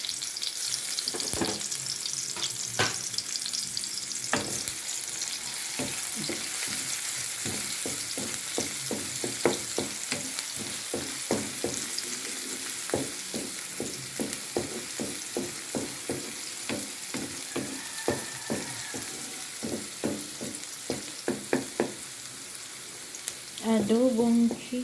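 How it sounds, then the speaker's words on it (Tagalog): Garlic and onion sautéing for adobo chicken feet, a steady crackling sizzle with a dense run of sharp spatula clicks and scrapes against the pan throughout, close and continuous. "maggisa na tayo ng bawang sibuyas lang at saka bawang sibuyas sa ating lutuing"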